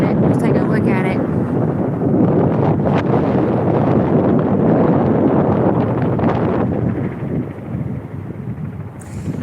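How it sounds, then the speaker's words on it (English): Strong wind buffeting the microphone outdoors at sunset in Tulsa, Oklahoma, a loud continuous roar with gusts that ease slightly near the end. "Sorry it's so windy. I'm sure you all get an earful."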